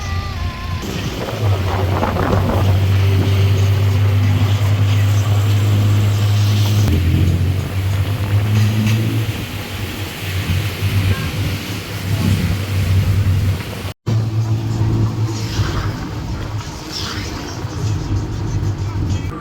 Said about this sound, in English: Now doing my first tuk-tuk ride.